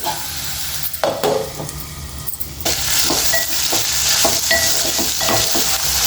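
Ridge gourd pieces cooking in a pan, starting quieter with a clink of a utensil, then a steady sizzle with intermittent stirring and scraping strokes, close and without talk.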